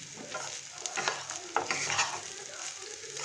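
Cooked rice stir-fried in a pan with cashews and a little sugar, a soft continuous sizzle with scraping stirs and occasional small crackles, fairly quiet and close.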